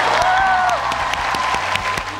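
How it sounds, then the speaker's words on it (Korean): Crowd applause at a Busan International Film Festival promotional stage event, with dense clapping that carries on steadily under a brief high tone and gradually eases. "박수 부탁드립니다"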